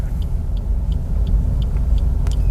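A manual car pulls away on an uphill slope, its engine giving a steady, close low rumble with no voices over it.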